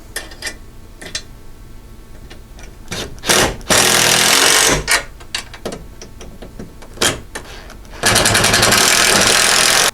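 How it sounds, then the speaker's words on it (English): Several short bursts of an impact wrench buzz loudly and close, tightening bolts with a 7/16 socket on a CFMoto U-Force 1000 cab, with two long, steady runs of whirring mechanical noise between quieter clicks and handling sounds. "we can take our impact with our 7/16 wrench and we'll tighten everything down"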